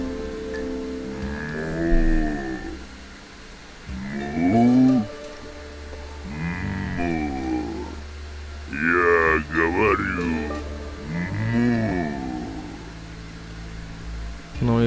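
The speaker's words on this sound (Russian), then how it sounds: "Я коровку слушаю" Cattle moo repeatedly in The Incredible Adventures of Van Helsing video game, several drawn-out lowing calls spaced a couple of seconds apart over a steady low ambient rumble and rain-like hiss, with someone talking at times.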